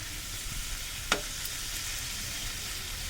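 Spice masala for crab pickle fries quietly in a pan, a soft, steady sizzle with a single brief scrape of stirring partway through.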